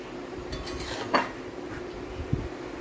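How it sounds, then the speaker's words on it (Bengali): Egg curry is scooped from a pan into a bowl with a metal utensil. A few soft clinks and scrapes of metal on dishware sound close by, with no talking. "আমি তাহলে এগুলো এখন একটা পাত্রে তুলে নিচ্ছি"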